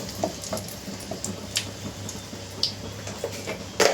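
Two broken dried red chillies fry in hot oil in a pan, a steady close sizzle dotted with sharp crackling pops and light stirring clicks.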